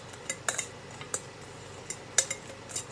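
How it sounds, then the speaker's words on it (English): A fork tosses fried shrimp on a plate for coating in barbecue sauce, giving several sharp, scattered metallic clinks and scrapes against the dish, near and fairly light, with quiet pauses between and no talking. "I can even take this fork that I had from earlier, tossing them"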